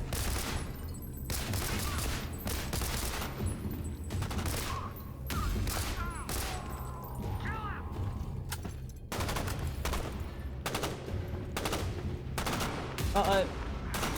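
Repeated gunfire in the Beneath demo shooter game, loud bursts and sharp single shots coming in irregular clusters over a noisy backdrop, with a player talking at times.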